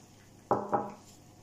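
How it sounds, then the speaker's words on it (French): A spoon or whisk knocks twice against a bowl while savory cake batter is mixed with melted butter, two quick close clanks followed by a short fade. "et je mélange."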